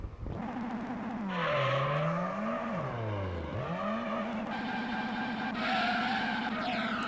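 In Gran Turismo 3, car tires squeal during a burnout attempt while the engine revs and sweeps up and down in pitch, a continuous loud screech and engine whine with no talk.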